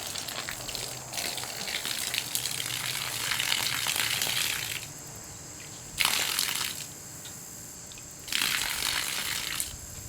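Water pours from the spout of an old tinned coffee pot in a few separate bursts, a steady splashing trickle that runs for several seconds, stops, then returns twice in shorter pours, close and fairly quiet.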